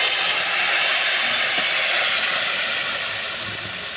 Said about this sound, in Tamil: இப்போ வந்து கடுகு உளுந்து வந்து போட்டாச்சு, நல்லா வந்து பொரியுது